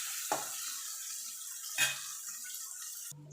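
Onion frying in hot oil in a home kitchen, a quiet steady sizzle with a couple of brief stirring scrapes, ending with a louder clatter.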